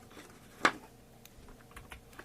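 Sparse keyboard typing during a 3D modeling sketch session: one sharp, fairly close key click followed by a few faint taps over a quiet background.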